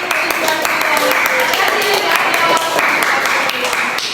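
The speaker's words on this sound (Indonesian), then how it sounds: "Ya, tepuk tangan." A classroom of students claps after a poem recitation at a teaching session, a dense steady patter of hands running throughout at moderate loudness with some voices mixed in.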